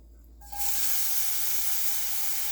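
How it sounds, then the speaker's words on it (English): Chopped onion hits melted butter in a pan for spaghetti pie, setting off a sudden loud sizzle that stays steady and close after a brief quiet start. "So I put a little bit of melted butter in the pan, and we're going to add some onion,"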